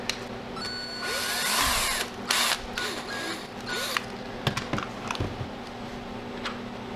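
A power drill whirs in short bursts, with clicks and small knocks between runs, fairly close and moderately loud.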